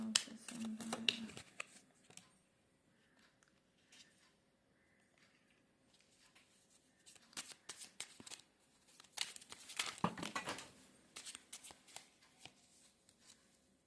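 Tarot cards being shuffled by hand, with quick riffling bursts at the start and again later, separated by quieter handling and soft rustles, close and fairly faint.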